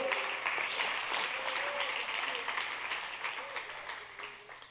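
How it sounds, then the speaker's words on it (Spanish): Congregation applause fills a Spanish-language church service, a steady broadband wash of clapping that stays loud and even for a few seconds before tapering slightly at the end. "Dale ese aplauso a Él."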